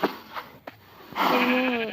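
Minecraft cows in a One Block survival game give a short game-sound moo, a steady harmonic call rising in the second half after a few brief clicks and thumps.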